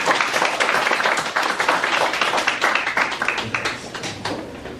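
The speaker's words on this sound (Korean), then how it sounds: "다시 한번 큰 박수 부탁드리겠습니다." Indoor audience at a book forum presentation applauds, a dense patter of many hands clapping that stays strong, then thins and fades slightly toward the end.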